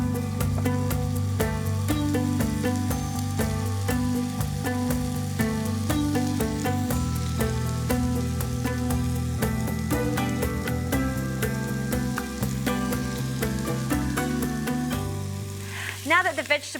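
Vegetables frying in a pot before lamb shanks go back in for lamb in red wine, a continuous dense sizzle with rapid crackles and occasional utensil clicks toward the end.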